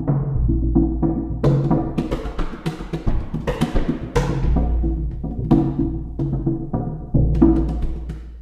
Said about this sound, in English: which uses all 5 of the different jug drums and the arpeggiator to create some spectacular complex rhythms.